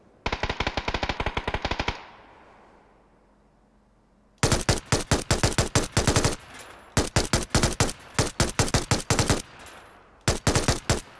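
Automatic rifle fire in the video game PUBG cracks out in rapid, loud bursts, first a two-second string, then after a quiet pause several more bursts in quick succession, close and sharp.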